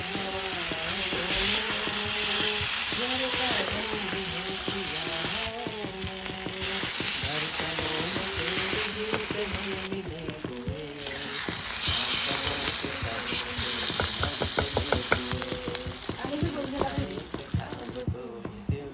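Bitter gourd filling cooking with mustard paste on low heat, a continuous sizzle under rhythmic scraping and stirring strokes against the pan, close and fairly loud, with clattering toward the end.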